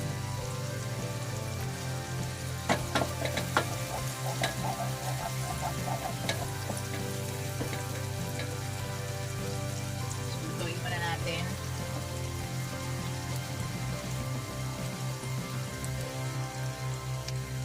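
Shrimp frying in a pan give off a steady, crackling sizzle with scattered pops and spatters, fairly soft, while a person talks intermittently over it.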